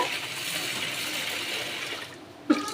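Water sloshes and swirls close by as mixed grains for multigrain dosa are rinsed by hand, ending with a small splash.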